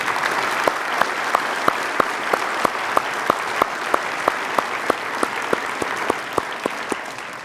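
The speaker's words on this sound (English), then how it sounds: "So let's give a round of applause for our Honor Guard," Audience applause for an Honor Guard at a veterans program, a dense, steady wash of clapping that fills the whole stretch at full volume with no voices over it.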